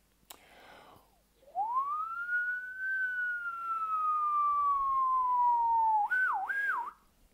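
A person imitates a siren with a single whistled tone. The pitch rises, holds and slowly falls, then ends in a couple of quick wavering yelps. The whistle is close and clear over a quiet background.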